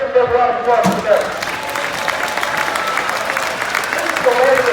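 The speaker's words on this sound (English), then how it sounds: "Let's give them a round of applause for them." A crowd applauds and cheers at a monster truck event in Medina, Ohio, a broad sustained roar of clapping in a large venue, following a voice over a loudspeaker at the start.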